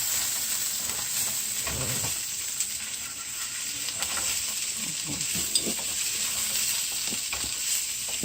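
Garlic stuffing mixture being stirred in a pan gives a steady scraping and soft sizzling texture, with a few louder scrapes and knocks against the pan throughout and no talking.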